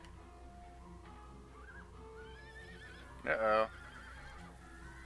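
A horse whinnies once in the Dragon Quest VIII video game, a short, fairly loud neigh over quiet game music and ambience, with a person speaking briefly.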